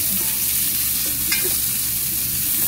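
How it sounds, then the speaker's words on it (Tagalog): Onion and garlic fry in a pan for tinola with native chicken, giving a steady close sizzle throughout with scraping stir strokes over it and no talking. "So haluin muna natin guys para bumango"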